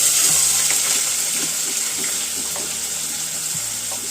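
Chopped onions fry in a pan with a loud, continuous hiss and crackle, close to the listener, with faint clinks of stirring.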